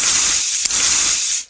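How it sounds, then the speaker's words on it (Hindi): Medicine spray hissing onto a foot during an animated foot treatment, one steady loud aerosol burst lasting over a second with a brief dip midway, then cutting off. "हम लोग स्प्रे का दवा डाल देते हैं।"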